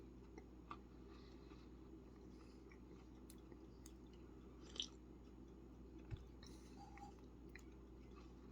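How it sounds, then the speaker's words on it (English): Quiet, close chewing of a Pop-Tart in Eggo Frosted Maple flavor, soft squishy bites and a couple of small clicks over a low steady hum. "Sorry, I'm chewing."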